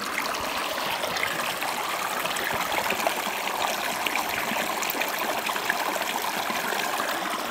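A small creek flows and trickles steadily around an agate rock being washed in it during rockhounding in Fiddlers Canyon, Utah, a constant close, full water sound with no talk.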